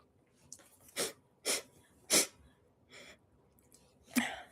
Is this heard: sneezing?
yes